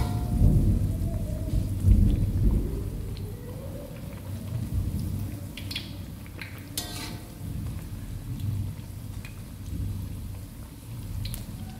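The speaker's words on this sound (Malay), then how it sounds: "Di sini hujan terus petir" Steady rain falls on surfaces with rolling thunder, including a couple of sharper cracks, in a long continuous wash of sound with no talking.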